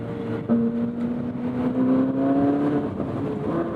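A Ferrari 458 Spider engine drones steadily with the soft top down, a rising harmonic tone climbing gently as the car accelerates, loud and close with broadband road and wind noise underneath.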